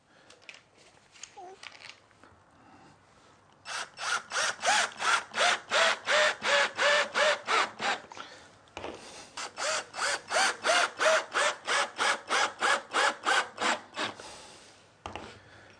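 Screws are driven into a wooden glue storage rack in two long runs of fast, even, rasping ratchet-like strokes, loud and close, with short pauses between.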